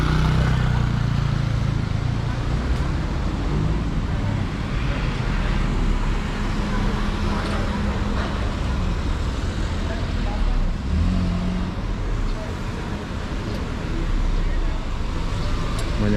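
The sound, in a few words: street traffic with many cars, Cangkat Bukit Bintang, Kuala Lumpur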